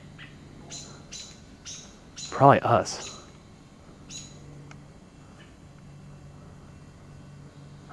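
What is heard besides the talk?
agitated bird calling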